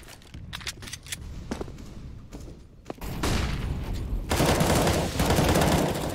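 Rifle fire crackles in a CS:GO firefight on the Inferno map, starting with scattered single shots and short bursts, then swelling into sustained, dense automatic gunfire that grows louder and closer.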